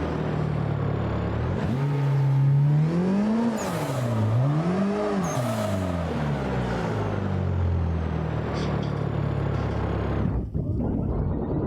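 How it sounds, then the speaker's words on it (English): A loud racing car engine in the driving game Assetto Corsa revs up and down in rising and falling sweeps, then holds a steady roar, with no other sound. "This car is loud as shit"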